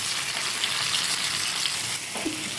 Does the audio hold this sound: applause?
no